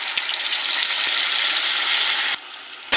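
Ground spice paste frying with fried onions in hot oil, a loud, dense, continuous sizzle with a few sharp utensil knocks, dipping briefly near the end before a final scrape.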